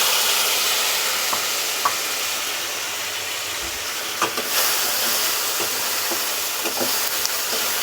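Chopped tomato fries with turmeric powder in oil, a steady broadband hiss of sizzling with occasional soft stirring taps, even and close, with no speech.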